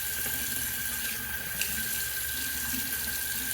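A bathroom tap runs steadily into a sink as water is used to wet the face before shaving, a constant close hiss and splash with no talking.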